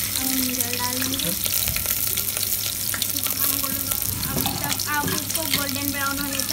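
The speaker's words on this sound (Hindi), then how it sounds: "अब हम जीरा डाल देंगे" Cumin seeds go into onion frying in a pan, giving a continuous loud sizzle and crackle with occasional stirring clatter, while running water and faint kitchen sounds carry on in the background.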